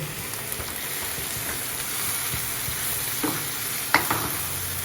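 Round gourds (tinda) sizzling in hot oil with masala, a steady soft frying hiss with a few faint clinks of stirring, close and otherwise quiet.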